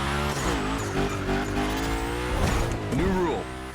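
Tires squealing from a car spinning donuts in The Crew racing game during a gymkhana event, a sustained loud engine drone with rising skid whines, with a voice talking over it.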